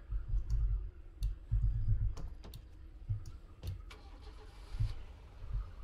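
A truck engine turns over and starts in a snowy survival video game, with clicking and rumbling bursts at low volume and no talk over it.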